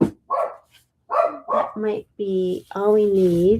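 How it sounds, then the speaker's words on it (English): A dog barks and yips a few times close by, mixed in with a person talking indoors. "sorry about my dog."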